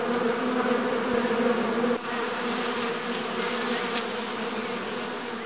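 A constant swarm hum from honeybees around an artificial beehive, many wings buzzing together close by, even and unbroken, with a faint click partway through.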